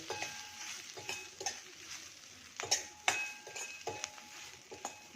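Garam masala, roasted cumin powder and salt are stirred into chillies in a pan, with soft scraping and frequent sharp clinks of a spoon against the metal at an uneven pace, close and fairly quiet.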